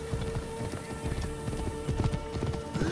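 Rapid hoofbeats of horses galloping in Assassin's Creed Origins, a continuous clattering rhythm of several hooves at moderate volume, with battle ambience beneath.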